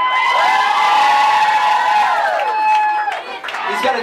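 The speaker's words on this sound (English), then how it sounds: "Give Kyle a round of applause." An audience at a concert cheers and whoops loudly for the drummer, with sustained crowd shouting that swells and then breaks into scattered yells.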